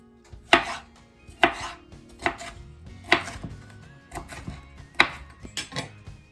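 A knife chops vegetables on a cutting board for cabbage soup, giving seven or eight crisp, evenly spaced thuds about a second apart, close and clear with no talking.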